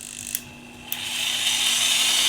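A Tekhmann TLD-13/126 electric drill spins up with a couple of sharp clicks, then settles into a steady, close high-pitched motor whine that holds to the end.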